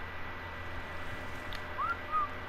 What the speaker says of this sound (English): I whistled aggressive.